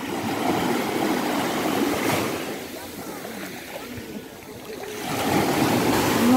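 Sea waves wash onto a sandy beach in Alanya, Turkey, a broad rushing surf that swells, recedes into a quieter hiss mid-clip, then surges loudly again, heard close and alone.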